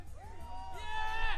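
A New York crowd at the UFC 244 press conference for Jorge Masvidal vs Nate Diaz, cheering and whooping, swelling louder toward the end with raised voices mixed in.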